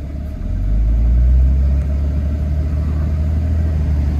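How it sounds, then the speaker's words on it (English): A 2007 Dodge Ram 2500 SLT Mega Cab 4x4 with the 6.7L Cummins diesel pulls away in drive, a loud low rumble that swells briefly and then settles into a steady drone. "putting it in drive, here we go"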